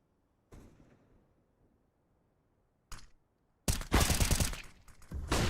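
Glock pistol fire in a Counter-Strike pro match from an Oceania Open qualifier: a sharp shot, a lone crack a few seconds later, then a loud, dense run of rapid shots that continues to the end.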